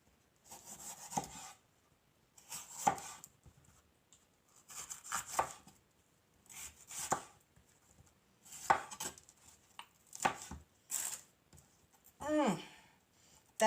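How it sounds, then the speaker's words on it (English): Knife chopping a yellow pepper on a cutting board while soup is being made, short bursts of rapid cuts separated by pauses, fairly close, with some faint kitchen handling between. "I'm also going to cut up this yellow pepper"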